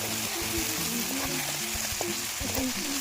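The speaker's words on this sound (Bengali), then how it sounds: "এবার দেবো এতে টমেটো পেস্ট।" Tomato paste hits fried onions in a pan for a prawn malai curry, giving a steady close sizzle with occasional stirring scrapes throughout.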